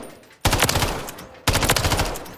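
MTZ rifle in Call of Duty: Modern Warfare 3 firing two loud, close bursts of rapid automatic gunfire, each lasting about a second, separated by a short pause.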